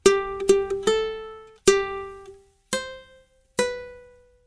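Six plucked ukulele notes play the opening phrase of the birthday song, two quick notes followed by longer ringing ones, solo and clear.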